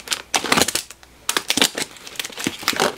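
A knife cuts through a cardboard package in several harsh scraping and crunching bursts, close and fairly loud, separated by brief pauses.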